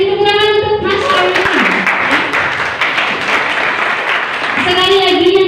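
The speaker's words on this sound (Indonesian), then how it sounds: "tepuk tangan untuk Mas Ari" Students clapping for a speaker at a school student council candidate debate, a loud, dense burst of applause between stretches of amplified, music-like tones at the start and end.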